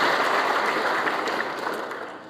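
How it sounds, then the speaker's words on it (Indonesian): A church congregation claps during a sermon, producing a dense, steady wash of applause that gradually fades over a couple of seconds. "Beri tepuk tangan terbaik buat Tuhan Yesus Kristus."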